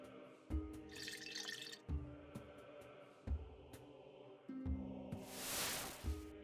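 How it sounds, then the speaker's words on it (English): Water being poured from a jug into a bucket in the video game RuneScape, short splashy pours and drips over repeating musical tones, with a louder rushing splash near the end. "we fill the jug again, and then we fill the bucket from the jug"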